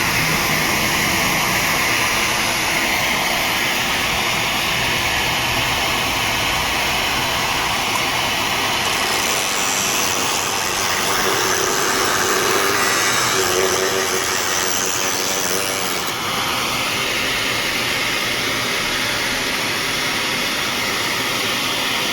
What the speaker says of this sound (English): the vacuum on here.